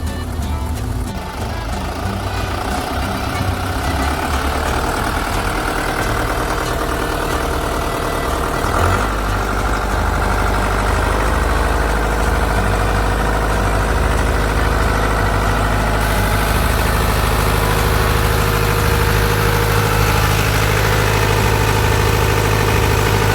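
A transit mixer's diesel engine runs loud and close, idling at first and then revved to high throttle into a steady, heavy drone while its water pump is checked after a seal kit and bearing repair.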